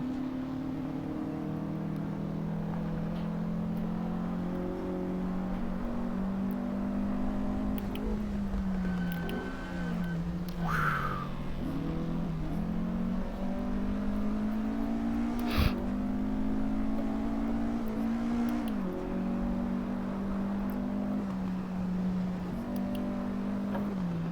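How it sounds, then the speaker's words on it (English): A small car drives the Feldbergring circuit in Assetto Corsa with a steady, close engine drone that rises and dips gently as it shifts and takes corners. It runs alone without talk. "It's a pretty drivable little car."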